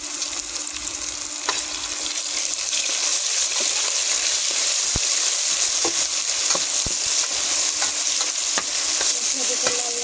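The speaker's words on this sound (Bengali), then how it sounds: "মশলা দিতে লাল লাল করে ভাজতে হবে" Ground ginger, garlic and cumin paste fries steadily in hot oil in a pan for a broiler chicken curry, giving a loud, continuous sizzle with occasional scraping stirs and no voices.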